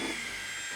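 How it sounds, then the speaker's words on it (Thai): A power drill bores a hole through the back panel of a cabinet with a wall behind it, giving a steady high-pitched whine that runs close and loud without a break. "เราก็จะเริ่มจากการเจาะรูออกไปทะลุไปข้างหลังนะครับผม"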